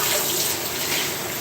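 Steady stream of tap water running over a cutting board being rinsed after cutting mushrooms, a continuous loud splashing hiss with no pauses.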